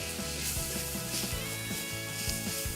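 Onions caramelizing in oil in a pan for a sous vide steak burger give a steady close sizzle and crackle that runs unbroken throughout, with a low rhythmic tonal layer underneath.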